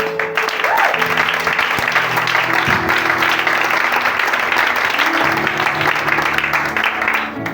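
A church congregation applauds loudly and continuously, many hands clapping together while raised voices and cheers ring out over the clapping.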